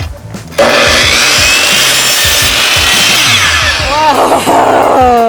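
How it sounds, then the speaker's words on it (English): A 12-inch compound miter saw makes its first cut through wood: a loud, sustained whine and rasp of the blade biting in, running steadily for about five seconds, with a brief tonal squeal as the cut finishes. "We have a 12-inch compound miter saw. The first cut with the big tool."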